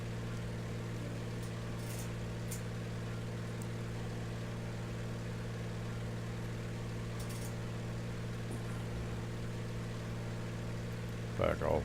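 Steady, loud drone of light aircraft engines in cruise flight, a constant harmonic hum throughout, with a brief bump of noise near the end.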